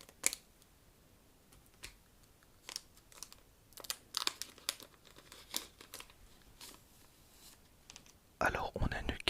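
Dragon Ball Super card game booster packs from the Realm of the Gods BT16 set being opened up close, soft intermittent crinkles and tears of foil wrapping, with a louder burst of crumpling at the end and faint whispering.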